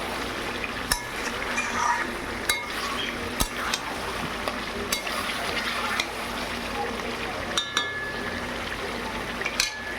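Mutton and potatoes sauté in oil in a pan at home, with a continuous soft sizzle and scattered sharp scrapes and knocks as a spoon stirs the meat.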